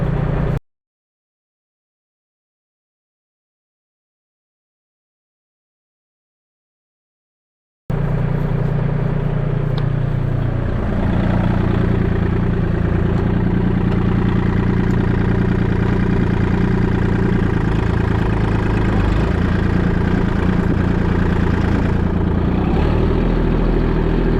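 Kubota L2501 tractor engine running while digging gravel, a steady loud low rumble after a brief opening burst and a long stretch of silence.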